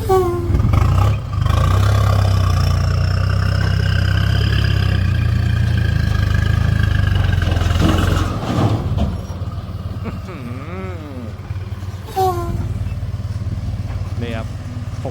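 Six-wheel truck with a four-cylinder A05C engine and Eaton 12-speed gearbox pulling a trailer, a loud, steady low diesel drone heard from inside, with people talking over it and the engine note shifting as it settles.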